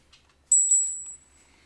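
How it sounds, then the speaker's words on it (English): A small bell, likely a single bicycle-style ding, rings twice in quick succession, sharp and bright, then fades into a long sustained tone over a quiet background. "it's a bell of some sort."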